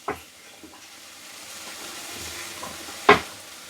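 Diced potatoes and softened vegetables are stirred in a pan, a quiet scraping sizzle with a few soft knocks and one sharp clack near the end, with nobody speaking.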